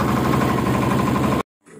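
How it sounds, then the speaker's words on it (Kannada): A motor boat engine on a boating trip at Honnavar runs loud and close with a steady, rhythmic chugging drone, then cuts off abruptly, leaving near silence and a faint sound at the end. "ಸೊ ಇದು ಮೋಟರ್ ಬೋಟ್ ಆಗಿರೋದ್ರಿಂದ ಸಿಕ್ಕಾಪಟ್ಟೆ ಸೌಂಡು"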